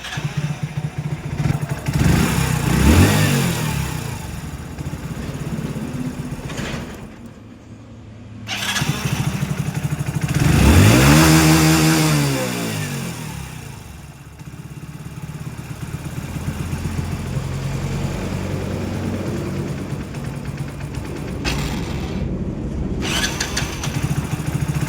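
A Hero HF Deluxe BS6 motorcycle with a pickup misfire fault runs steadily close by, rising into two distinct revs that climb and fall back to a rough idle, with no talking.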